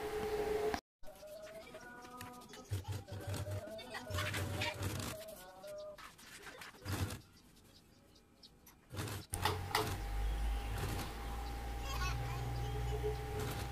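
A sewing machine runs in steady mechanical bursts, stitching the collar seam of a simple child's tunic at a slow pace. Loud and close, with a voice talking between the runs.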